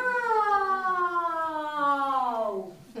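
At a school event for children's book day, a voice imitates an angry cat with one loud, drawn-out meow that slides slowly downward in pitch for about three seconds, heard alone and close.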